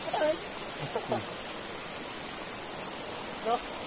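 River water flowing on a farm visit, a steady broadband rush of moving water with faint, brief voices surfacing over it.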